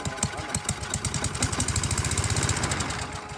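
A racing lawnmower engine fitted with a freshly replaced spark plug catches and sputters, firing in rapid uneven chugging pulses that climb toward a faster rhythm without fully starting, loud and close.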